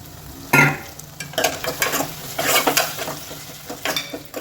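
Chopped tomatoes hit a hot frying pan for chicken fry, giving a sudden sizzle followed by scraping stirs and clinks of a spoon against the pan, close and clear with no talking.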